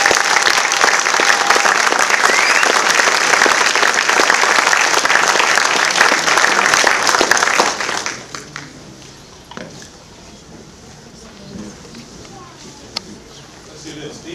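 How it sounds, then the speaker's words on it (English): A crowd at a football team award ceremony gives sustained, dense applause with occasional cheers, then it drops off abruptly into quiet room murmur and shuffling with a single sharp knock near the end. "if you can give them a round of applause"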